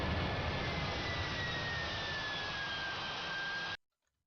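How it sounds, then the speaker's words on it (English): A Boeing 747 jet roars in a loud, sustained rumble with a slowly falling whine on top, holding steady before cutting off abruptly near the end; no one speaks. "This looks like 747 landing"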